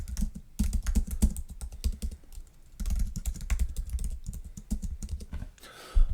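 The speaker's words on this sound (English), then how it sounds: "I'm going to type some stuff out" JavaScript code being typed on a computer keyboard: dense, irregular clatter of keystrokes recorded close and loud, with brief pauses between runs of typing.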